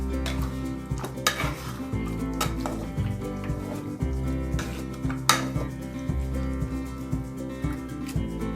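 A potato masher works cooked vegetables in a pan for pav bhaji, making rhythmic close metallic thuds, clanks and scraping against the pan.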